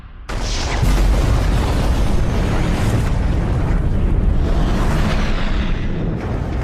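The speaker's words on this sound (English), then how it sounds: "Massive secondary explosions" Massive tricobalt torpedo explosions in a sci-fi space battle, a loud sustained roaring boom that swells quickly and rumbles on for several seconds with dense low-end weight and no talk over it.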